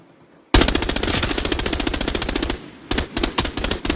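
Automatic rifle fire in the shooter game Arena Breakout, loud close rapid bursts: a long sustained string of shots, a short pause, then another quick burst.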